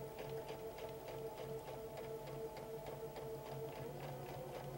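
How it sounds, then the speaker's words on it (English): A sewing machine stitches quilt patchwork onto an anchor cloth for a pineapple log cabin quilt, a quiet, steady mechanical hum with fast, even ticking stitches throughout. "When I sew the patchwork, I like to start sewing on an anchor cloth."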